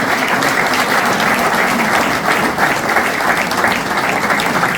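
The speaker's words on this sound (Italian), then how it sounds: "un applauso che vorrei immediatamente per questi giovani ragazzi" Steady applause from an audience greeting young football referees at a sports gathering in Veneto, dense and sustained for several seconds at close range with no speech over it.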